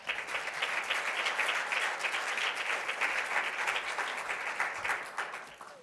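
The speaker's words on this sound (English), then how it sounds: "I hope those applause were for our colleagues from the refugee space and not for me." An audience claps at a refugee leaders' dialogue event with UNHCR candidates, a continuous moderate round of applause with individual claps audible throughout, ending as it tapers slightly.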